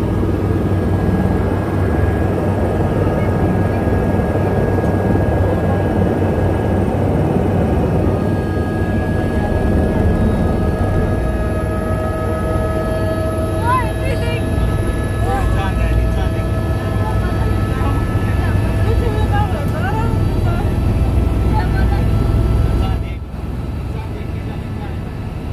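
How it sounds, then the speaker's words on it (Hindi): A helicopter engine drones steadily from inside the cabin on a flight from the Katra helipad toward Vaishno Devi, a loud continuous whine and rumble, with faint talk beneath it. "अब हेलीकॉप्टर की यात्रा करेंगे।"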